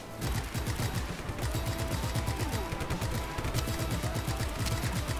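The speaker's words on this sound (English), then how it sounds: "Time for the big gun." Heavy weapon fire in Just Cause 3, a dense, continuous stream of rapid low thumping blasts that stays loud and steady throughout.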